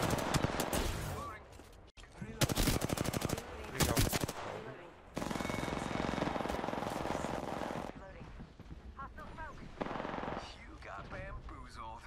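Rapid bursts of shotgun and automatic gunfire from an Apex Legends match, loud and close, broken by brief pauses, with a player's voice talking over parts of the action.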